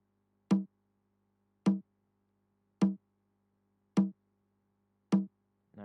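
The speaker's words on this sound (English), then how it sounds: "And after, layered it with some bongos." Bongo hits layered into a programmed afrobeat pattern: single short, pitched hand-drum taps repeating at an even, unhurried pace, each ringing briefly before silence, with another strike starting at the end.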